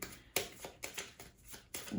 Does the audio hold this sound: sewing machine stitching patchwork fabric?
no